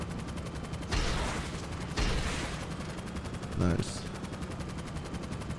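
Heavy weapons fire in GTA Online comes as several loud, broad explosive bursts spaced about a second apart over steady game background noise, with a brief spoken word near the end.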